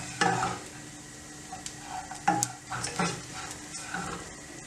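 Dry fruits are stirred and roasted in ghee in a pan, with a soft ongoing sizzle and several sharp scrapes and clinks of a utensil against the metal at irregular intervals, quiet and close.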